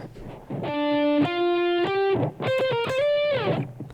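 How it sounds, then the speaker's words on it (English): Electric funk guitar played through a distortion effect, sounding several sustained, buzzy notes that slide and shift in pitch across two phrases separated by a short gap, loud and upfront with no talking. "Then you put your distortion on."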